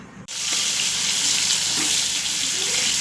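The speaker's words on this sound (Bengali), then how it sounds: "তেল বসিয়ে নিয়েছি, গরম হয়ে গেছে, এবার মাছটা ভেজে নেব।" Fish rubbed with salt and turmeric drops into hot oil in a kadai and sizzles: a sudden loud hiss bursts in after a short pause and holds as a steady, dense crackling spatter, close by and without talk.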